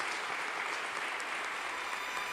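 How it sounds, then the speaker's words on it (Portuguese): Congregation in a church claps in praise, an even, distant wash of applause that holds steady for about two seconds. "Pode aplaudir talentosamente o Senhor Jesus."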